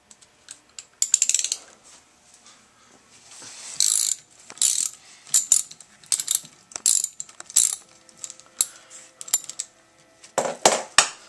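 A ratchet on an extra extension working at the rusty, dirty bolts of a transmission side cover, giving rapid bursts of sharp metallic clicking in short, uneven runs, close by and separated by brief pauses.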